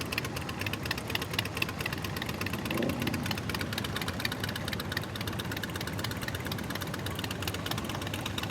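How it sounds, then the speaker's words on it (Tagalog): A Harley-Davidson motorcycle engine idles with a steady low rumble and uneven knocking pulses, heard continuously at moderate distance on a mountain road ride. "Harley Davidson, motor,"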